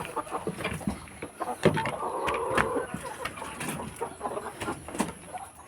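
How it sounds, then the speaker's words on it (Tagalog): Backyard Rhode Island chickens on a farm cluck softly and intermittently, close by, with a faint constant background hum. "ito naman yung ating mga alagang Rhode Island"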